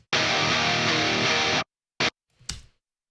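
A guitar track playing alone without its distorted modular synth layer: a loud, bright sustained chord rings for about a second and a half, then a short stab and a final sharp hit that quickly decays.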